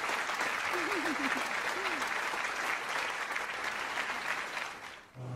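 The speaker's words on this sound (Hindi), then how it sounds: "लड़कियां इसके लिए ताली बजा रही हैं बॉस" A group of girls claps loudly in a sustained, dense burst of applause, with a short voiced exclamation early on, before the clapping fades out at the end.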